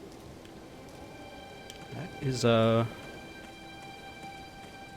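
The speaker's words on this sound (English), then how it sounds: "it's raining" Steady rain falls in the Elden Ring video game as a soft continuous hiss, while someone speaks briefly over it and a tonal game sound swells in the middle.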